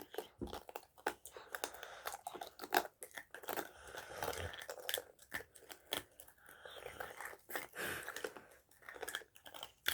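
Close, quiet crunching and chewing of hard rock candy on a stick, with irregular bites and crackles throughout and occasional soft murmuring.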